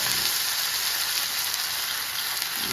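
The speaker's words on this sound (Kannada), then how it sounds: "ಬಿಸಿ ಎಣ್ಣೆಗೆ ಹಾಕ್ಕೊಳ್ಳಿ" Fish frying in hot oil on a gas stove, a steady, dense sizzle that holds at an even, fairly loud level throughout with no talking.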